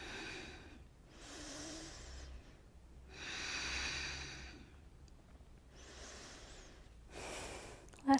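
Deep, slow yoga breathing during a home full-body session: long airy inhales and exhales alternate in an even rhythm, close to the mic with no talking, ending in a sharper breath.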